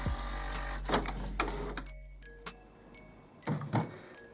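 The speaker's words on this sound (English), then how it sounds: "Now this will take your printer just a couple minutes." An HP Photosmart 6520 all-in-one inkjet printer runs a print quality report, giving off mechanical whirring bursts and carriage movements with short pauses, close by and moderately quiet, with no talking.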